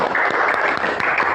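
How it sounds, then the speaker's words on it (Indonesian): Classroom applause for a student group's presentation, a dense wash of clapping hands filling the room steadily and fairly loud, with a few sharper individual claps standing out. "Tepuk tangan."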